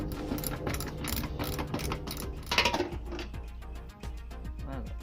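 Ratchet clicking in quick bursts while loosening fender bolts on a 2008 Scion xB, close and fairly clear against light shop background noise, with brief knocks of metal.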